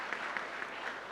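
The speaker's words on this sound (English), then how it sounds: "Applause to him." A brief, moderately quiet patter of applause from a small group gathered indoors at a hospital event, lasting about a second.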